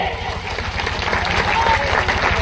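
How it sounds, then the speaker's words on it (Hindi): Applause from a crowd at an outdoor village speech, continuous loud clapping under a steady low rhythmic hum, with faint voices mixed in. "तो तालियां बजाइए।"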